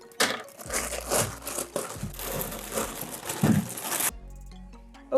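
Plastic packaging on a boxed anime figure assembly set is cut and pulled open, giving close, busy crinkling and crackling that runs for a few seconds and then stops abruptly.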